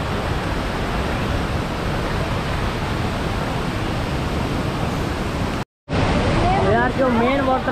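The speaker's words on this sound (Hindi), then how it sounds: "रानी दहरा वाटरफॉल का मेन वाटरफॉल ये है" Ranidhara waterfall at Kawardha roars as a loud, constant wash of falling water. After a brief cut, the roar returns and a voice speaks over it.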